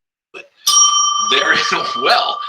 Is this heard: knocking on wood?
no